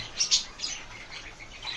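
Small birds chirping in quick, high bursts with some wing flutter, close by and moderately loud, with no talking.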